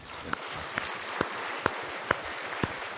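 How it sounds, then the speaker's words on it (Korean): A church congregation claps during a Korean sermon, a dense burst of applause with a few louder claps landing at a steady, rhythmic pace throughout. "이런 때 박수 한번 쳐야 돼."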